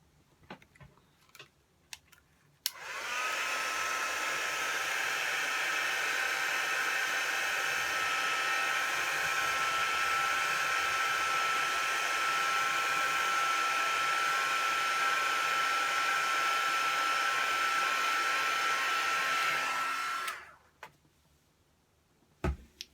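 A hair dryer blows on a freshly inked card for about seventeen seconds, a loud, steady close-up whoosh with a constant whine that starts and stops abruptly, with faint handling noises before and after.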